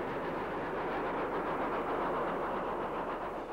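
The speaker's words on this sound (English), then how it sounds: "both the locomotives seen here are Caprotti valve-geared versions of the familiar Stanier Black Fives" Caprotti valve-geared Stanier Black Five steam locomotives work on the Lickey incline, heard as a continuous broad rumbling roar with a faint rhythmic pulse, steady and moderately loud throughout.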